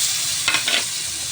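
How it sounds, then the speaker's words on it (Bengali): Raw mango pieces fry in hot oil with dried chilli and five-spice tempering, a brief close sizzle with two short bursts of sharper crackle, no voices. "ভাজা হয়ে গেছে, এবার কাঁচা আমগুলো দিয়ে দেবো।"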